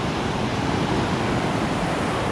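Ocean surf rolls onto Myrtle Beach in a steady, broadband wash that stays fairly loud and continuous the whole time, with no talking.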